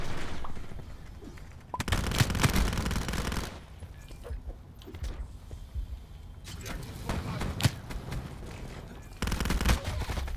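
Bursts of rapid automatic fire from the Daemon 3XB in a Call of Duty shooter come in two or three dense loud volleys separated by quieter stretches of game ambience.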